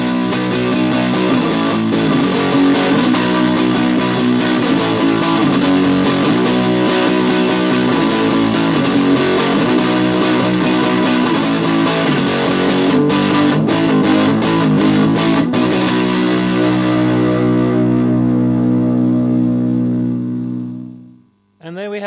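Electric guitar through a parallel LM386 distortion pedal set to maximum, dense buzzing chords ringing continuously and loud, then decaying into silence at the end.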